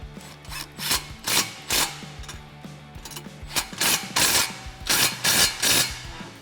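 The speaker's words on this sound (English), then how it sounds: "And then tighten your clamp with a 15mm socket." A 15mm socket tightening a clamp on a 3-inch MBRP dual side-exit exhaust on a 2014-2018 Silverado or Sierra, giving repeated short ratcheting rasps in bursts with brief pauses, close and moderately loud.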